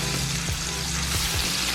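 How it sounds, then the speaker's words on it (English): Chicken pieces laid skin side down into a hot pan sizzle and fry steadily, with a few brief stirring or placement clicks, loud and close with no talk. "So now add your chicken and make sure you hear the sizzle sound"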